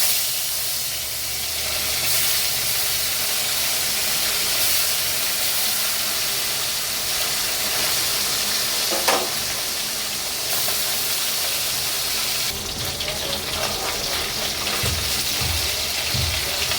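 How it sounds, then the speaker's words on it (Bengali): Small fish fry in hot oil in a wok, a loud steady hissing sizzle that runs throughout with occasional crackles and a few clattering touches near the end. "মাছগুলো একটু লাল লাল করে কিন্তু ভেজে নিতে হবে"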